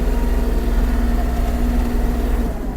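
Steady low drone of a Kubota GL-29 mini tractor engine running near, loud and even, easing slightly toward the end.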